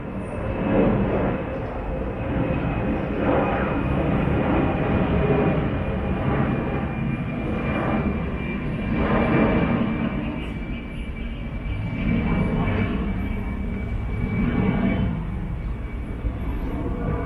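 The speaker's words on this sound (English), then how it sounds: "let's wait for that airplane to pass" An airplane passing overhead outdoors, a broad steady rumbling roar that swells and fades slightly over a long stretch at moderate loudness.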